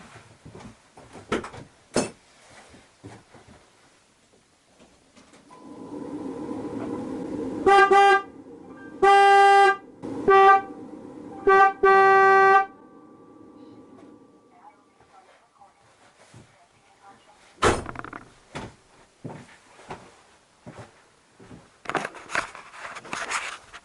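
A replacement horn on a Ford Explorer gives several loud, close toots in a row, one long blast and then shorter ones, with quieter clicks and handling sounds before and after.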